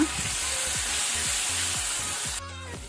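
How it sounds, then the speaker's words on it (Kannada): Chili paste frying on a low flame, with a close, steady sizzle running throughout and a burst of crackle near the end. No voices are heard. "ಚಿಲ್ಲಿ ಪೇಸ್ಟ್ ಹಾಕೋಣ, ಮೆಣಸಿನ ಪೇಸ್ಟ್. ಸ್ವಲ್ಪ ಇದನ್ನು ಫ್ರೈ ಮಾಡುವ."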